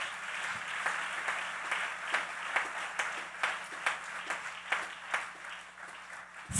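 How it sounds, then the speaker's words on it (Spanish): A church congregation applauds for Jesus during a sermon, a steady, fairly distant wash of clapping with regular louder swells that runs the full length, ending in a brief sharp noise. "dele fuerte ese aplauso a Jesús."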